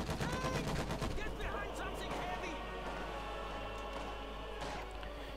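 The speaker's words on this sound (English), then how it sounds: "And Trinity there firing away." Rapid gunfire from infantry and tanks in a Company of Heroes 2 1v1 match, a dense spatter of shots at moderate level under an excited caster's commentary.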